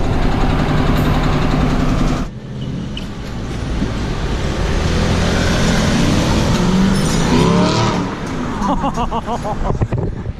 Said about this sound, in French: T'as entendu ce son de la caisse, c'est hallucinant.